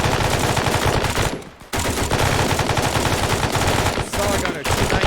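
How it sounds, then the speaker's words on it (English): Heavy machine gun fire during military position defense training, a loud, dense, continuous stream of rapid shots with two short breaks, close up and drowning everything else. "Open fire, heavy machine gunner."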